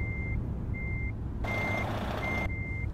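Steady truck reversing alarm in American Truck Simulator, four evenly spaced beeps over a constant engine rumble, with a brief burst of hiss partway through.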